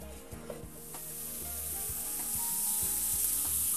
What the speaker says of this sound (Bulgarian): Пристъпвам към печенето на пържолките.